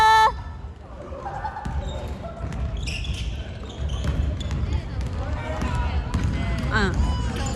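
Repeated basketball bounces and sneaker squeaks during an indoor game, sounding at an uneven rhythm under crowd hubbub and people talking.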